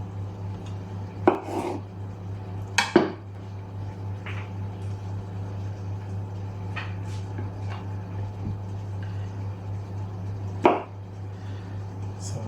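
Knife chopping a yellow pepper, courgette and tomato on a board for ratatouille, a few sharp distinct cuts scattered over a quiet kitchen with a steady low appliance hum underneath.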